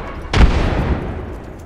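A grenade blast in a shooter video game bursts once, loud and close, then rumbles away over the next second.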